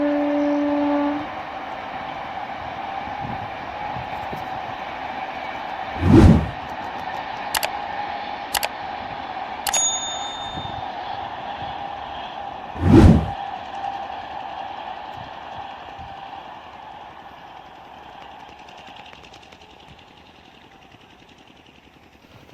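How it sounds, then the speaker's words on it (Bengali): A Ranaghat local passenger train coming from Lalgola passes by, its steady rumble filling the scene, with two loud bursts and a few short high tones standing out before the sound fades. "আর এখন যে ট্রেনটি দেখতে পাচ্ছ এটা হচ্ছে রানাঘাট লোকাল, লালগোলা থেকে আসছে, রানাঘাটের দিকে যাবে।"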